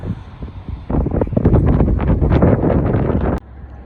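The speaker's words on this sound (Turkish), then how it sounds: "Şu anda çok rüzgar esiyor." Strong coastal wind at Güzelbahçe buffets the microphone for a couple of seconds, a heavy rumbling roar that rises suddenly and then cuts back to a quieter hiss.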